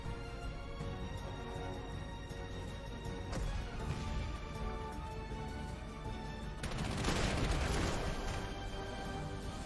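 Scattered gunfire from units in the strategy game Panzer Corps 2, set during the 1941 Battle of Moscow, comes as faint, steady shot crackle with a heavier burst of fire toward the end.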